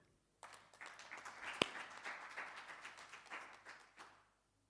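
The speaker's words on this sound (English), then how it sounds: "An applause of encouragement." Audience applause of encouragement at a research conference session, a few seconds of steady clapping with scattered sharper claps that fades out near the end.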